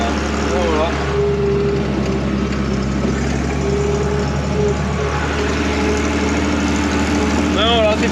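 Farm tractor engine idling after field work, a steady low rumble running throughout while someone talks over it at close range.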